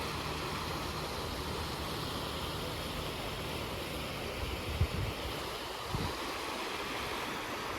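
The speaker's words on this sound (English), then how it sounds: "right behind us is the Connecticut River" Broad, steady rush of the Connecticut River's flowing water outdoors, a continuous wash with wind-like hiss throughout, plus a couple of brief low thumps near the end.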